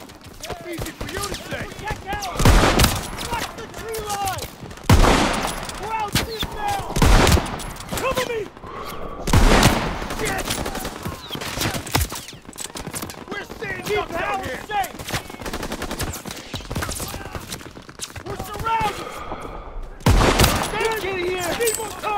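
Battle gunfire in Call of Duty WW2 crackles continuously, with heavy bursts and single loud shots breaking through every few seconds over a busy din of combat noise.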